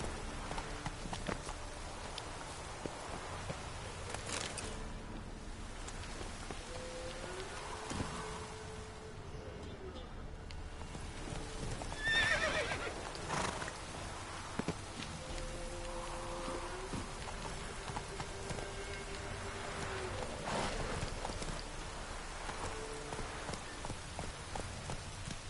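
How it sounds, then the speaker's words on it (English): A horse galloping in The Witcher 3, with rhythmic hoof clip-clops running under steady rain and wind, moderately loud and continuous throughout. "Run, Roach"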